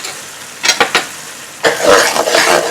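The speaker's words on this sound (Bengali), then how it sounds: "এটাকে মিশিয়ে দেবো ভালো করে" Tomato paste is stirred into masala frying in a pan for a prawn curry. A spoon scrapes and knocks a few times, then a loud, continuous sizzle follows, close and with no talk.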